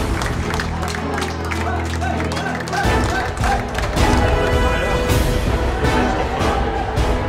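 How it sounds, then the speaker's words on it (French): A crowd at a culinary competition in Mauritius breaks into loud, sustained applause as plated dishes arrive, dense clapping swelling and mixing with cheers and a voice talking over it. "Accueillis par un tonnerre d'applaudissements"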